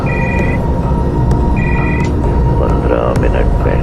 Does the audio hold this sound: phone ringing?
yes